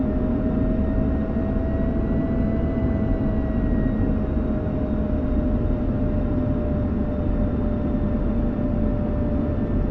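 Jet aircraft engine in the DCS flight simulator, a loud steady turbine roar with constant whine tones while lined up on the runway, alone with no voices.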